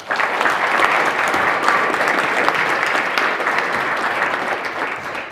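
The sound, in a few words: enthusiastic applause for panel participants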